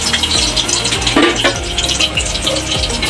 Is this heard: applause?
no